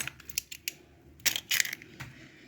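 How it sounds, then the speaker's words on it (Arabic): Two eggs crack into a bowl of basbousa batter mixed with a cup of oil, giving a few sharp taps and crisp shell breaks followed by soft wet plops, close and clear with no talking. "هحط عليها بيضتين، بعملها بيضتين بس اهو زي ما انتوا شايفين كده"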